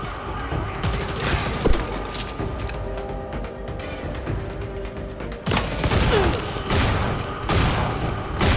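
Gunfire in the first-person shooter Redfall, heavy bursts of shots layered over one another, loud and close, with a steady rattle running through the whole stretch and an especially dense volley near the end.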